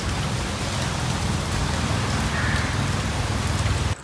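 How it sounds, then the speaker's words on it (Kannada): Dense, steady patter of heavy rain pouring outside, a constant wash of drops hitting surfaces, with a low rumble underneath. "ತುಂಬ ಮಳೆ ಬರ್ತಿದೆ ಹೊರಗಡೆ."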